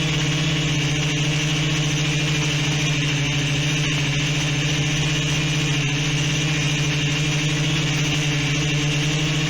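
Motors of the Palantir 3 quadcopter droning steadily in flight, a loud, close, continuous buzzing whine with strong even harmonics and no pauses.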